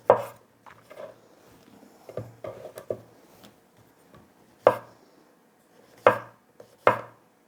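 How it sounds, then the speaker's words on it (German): Knife chopping an onion on a board, a handful of sharp, close chops with gaps between them, most of them strong and one or two softer. "Umso feiner ihr die Zwiebel schneidet, umso besser schmeckt es."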